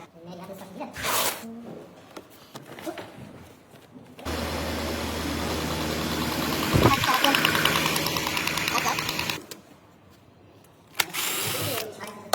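Mercedes-AMG engine with a problem noise, running in a loud stretch with a rough knocking, rattling idle, between quieter passages where people speak.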